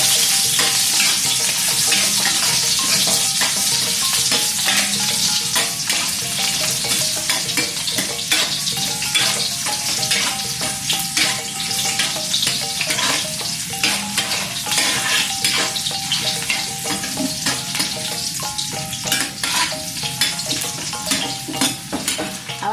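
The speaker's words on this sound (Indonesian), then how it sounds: "Awak masukkan sapode, jahe, bawang putih, awak tumis yang lah awak memarkan tadi" Garlic, ginger, shallots and spices stir-fry in hot oil in a home kitchen, a steady loud sizzle with repeated scraping and stirring strokes of a utensil against the pan throughout, no talking.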